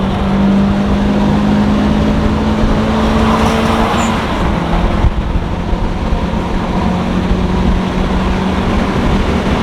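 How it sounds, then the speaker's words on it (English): A Subaru Legacy STI engine accelerates hard on a run, a loud, steady roar of motor and road noise that holds throughout with a slight shift midway. "Subaru runs sweet."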